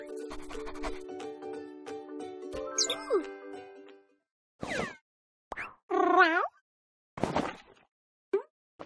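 Cartoon cat meows in the Sago Mini Road Trip video game, a few short separate mews after a stretch of bright chiming game music and boings, clear and close.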